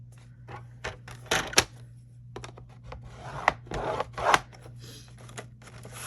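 A paper trimmer slices through card stock with a few sharp scraping strokes and light rustles, close and moderately loud over a steady low hum.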